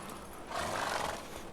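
Roach, Geralt's horse in The Witcher 3: Wild Hunt, gives a short snorting whinny over light hoof movement, close and fairly faint against background ambience.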